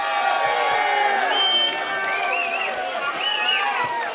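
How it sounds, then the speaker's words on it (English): A large crowd cheers and whoops loudly after a boxing match, a dense, continuous roar with rising shouts and whistles throughout. "ladies and gentlemen, a big round of applause for both these men"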